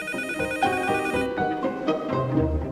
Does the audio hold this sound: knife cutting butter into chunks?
no